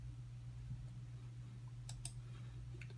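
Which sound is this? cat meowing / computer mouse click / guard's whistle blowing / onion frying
computer mouse click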